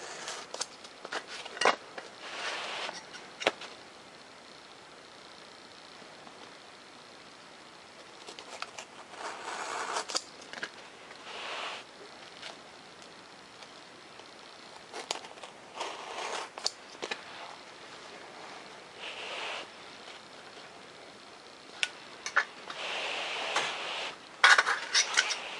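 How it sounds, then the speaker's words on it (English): Blade of a razor knife slicing through thin foam sheet for a Micro X47-B model plane on a small throw carpet, a series of quiet scraping, crackling cuts in irregular bursts with pauses between. "you're going to want to put your razor knife at a pretty good angle when you cut into these"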